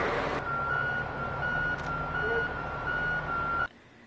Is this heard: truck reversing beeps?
yes